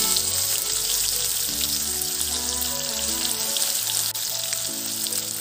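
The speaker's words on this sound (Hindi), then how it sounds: "और दूसरी ओर देखिए मेरा तेल हो रहा है पूरा गरम" Hot oil sizzles in a pan while cooking Gorkha-style fish curry, a loud, steady crackling hiss with a low hum underneath throughout.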